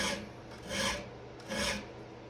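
Two slow rasping file strokes drawn across a chainsaw chain to sharpen it, each a gritty swell separated by a pause, close and moderately loud with no talking.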